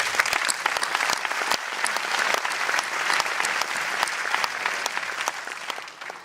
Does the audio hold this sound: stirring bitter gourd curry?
no